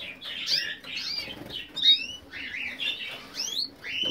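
Canaries in an indoor aviary chirp and squawk in quick, overlapping bursts, with rustling wing flaps between calls, close by and moderately quiet.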